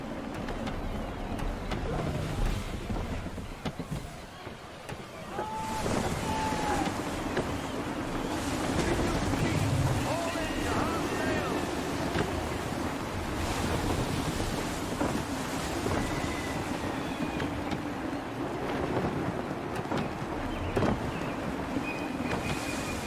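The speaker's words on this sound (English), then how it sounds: "Gusty winds can be difficult to manage." Gusty wind and rolling ocean waves at sea aboard a sailing ship in the video game Assassin's Creed 3, a continuous loud rush with swells and occasional creaks and whistles, no speech.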